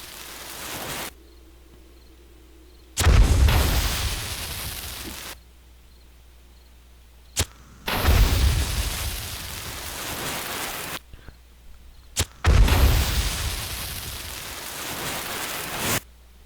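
Three loud, booming pipe bomb blasts in the video game 7 Days To Die, spaced several seconds apart, each a burst of broadband noise that rumbles and fades, with quiet stretches between.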